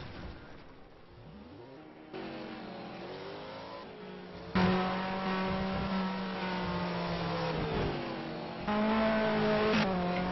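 Pennzoil Passat touring race car on track, engine droning steadily with shifting pitch sweeps and a louder surge midway, sustained throughout without speech.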